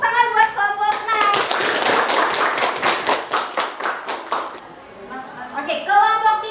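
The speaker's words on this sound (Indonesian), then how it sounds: "Tepuk tangan buat kelompok 6." Schoolchildren in a classroom clap for a student group after a simple-machines lesson, a quick burst of close, lively clapping lasting a few seconds, with children's and a teacher's voices talking before and after.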